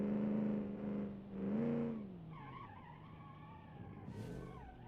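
A 1960s muscle car in the BeamNG driving game, its engine rumbling loudly for about two seconds as it brakes, then easing off while high tire squeal and skidding tones rise, ending in a brief bright burst of scraping noise.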